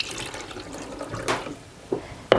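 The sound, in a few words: water being drained off churned butter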